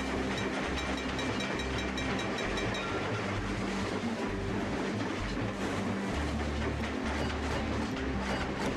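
A train running in the Trainz simulation game, a steady rumbling drone with low rolling throb and faint clatter throughout, loud and continuous with no talking.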